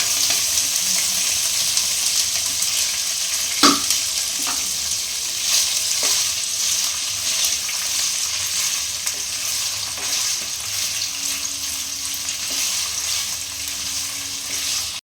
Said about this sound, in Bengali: আমাকে ভেজে নিতে হবে, খুব একটা বেশি নেই, হালকা হালকা।